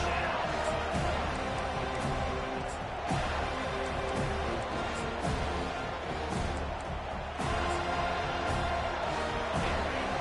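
Steady roar of a home crowd in a college football video game, sustained and loud throughout, with a commentator talking over it.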